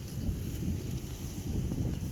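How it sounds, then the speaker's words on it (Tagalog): Low rumbling wind buffets the microphone steadily outdoors in a vegetable garden, a continuous gusty roar with no one speaking. "Palakas na naman ang hangin."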